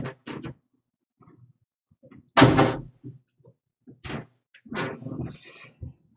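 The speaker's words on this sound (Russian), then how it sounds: "сейчас у меня дверь открылась на балконе" A balcony door in a home opens with a scattered series of soft knocks and rattles, then one loud clattering bang midway, followed by more light clunks.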